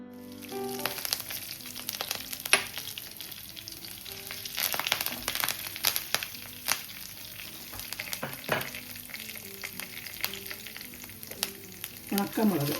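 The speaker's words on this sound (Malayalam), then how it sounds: "അടുത്തതായി ജീരകമാണ് ചേർത്ത് കൊടുക്കുന്നത്." Cumin seeds sizzle and spit in hot oil with urad dal for a Kerala chutney, with scattered sharp crackles and a few stirring scrapes, close and steady with no talk.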